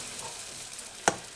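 Garlic-flavoured oil sizzling quietly under patties in a frying pan, a steady faint crackle broken by one brief sharper pop near the end.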